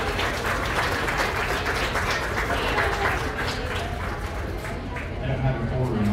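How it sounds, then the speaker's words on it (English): A crowd at a county goat show gives junior showmen a round of applause, a continuous wash of clapping across the whole stretch with some background noise from the arena. "Give them both a big round of applause, please."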